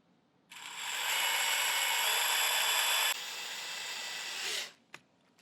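Power driver spinning screws into a Tennant S5 floor scrubber brush, a loud steady whir that drops in pitch partway through, then stops with a short click at the end.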